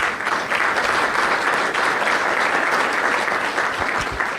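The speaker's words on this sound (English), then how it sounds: "why don't we give them a quick round of applause?" Steady, full applause from an audience thanking a business panel, a dense continuous wash of clapping that stays even throughout, with no talk over it.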